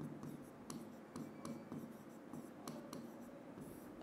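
Handwriting on a board or paper during an economics lecture, soft scratchy strokes repeating irregularly over a steady low room hum, faint and close with no clear speech.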